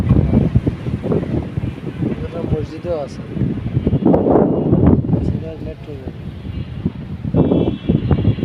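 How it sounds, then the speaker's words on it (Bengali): Strong wind buffets and rumbles across the microphone throughout, while people talk over the gusts. "বাতাস তো খুব ঝড়ের মতো বাতাস আসছে।"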